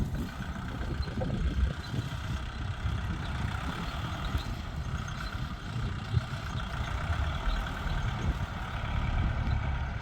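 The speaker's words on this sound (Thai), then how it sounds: "ก็มารีวิวการทำงานของรถไถ50 แรง" A new Kubota L5018 50-horsepower tractor ploughing moderately firm field soil with a six-disc plough: a steady, low, rumbling diesel drone that stays loud and unbroken throughout, with no talk.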